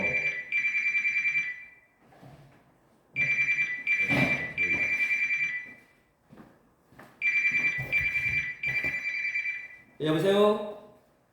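A telephone bell rings in repeated loud, electronic trilling bursts, three rings separated by pauses, with a person speaking briefly in between and after.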